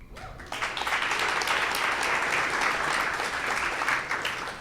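Audience applause welcoming a guest at a tech fireside chat, steady dense clapping from a crowd, loud and sustained throughout after a brief quiet start.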